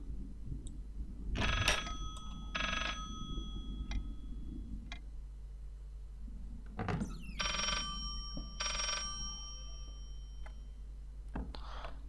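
An old-style telephone bell rings in repeated bursts in the horror video game Layers of Fear, two rings, a pause, then two more, over a steady low ambient hum.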